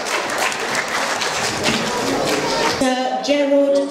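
A crowd claps loudly and continuously at a Nigerian Independence celebration in Manchester, and the applause fades near the end as a few chirpy tones come through.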